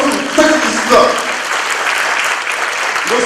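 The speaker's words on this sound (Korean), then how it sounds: "지금까지 수고해주신 기사님께 뜨거운 박수 부탁드리겠습니다." Audience applause at a staff talk concert of a Korean public fisheries agency, steady dense clapping throughout with a few voices and shouts mixed in.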